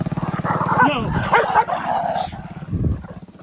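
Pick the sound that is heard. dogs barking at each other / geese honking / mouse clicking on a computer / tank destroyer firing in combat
dogs barking at each other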